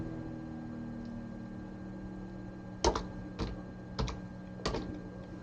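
A command is typed on a computer keyboard. A short run of distinct, close key clicks comes in uneven taps over a steady low hum, with no one talking.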